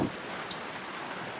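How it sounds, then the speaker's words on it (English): Steady rain falls outdoors as a continuous, even patter and hiss with no other sound over it. "Rain is getting a little heavier"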